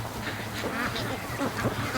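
Small flock of free-range ducks in a barn quacking in scattered short calls, moderately close, with a steady low hum beneath and no talking.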